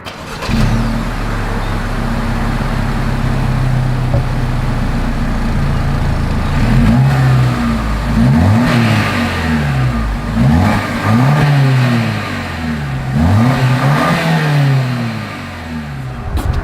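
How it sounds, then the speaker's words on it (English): A Lexus NX 350 exhaust revs repeatedly, loud and close, with a steady idle rumble rising into several sweeping climbs and falls in pitch. "As always, here is that exhaust clip."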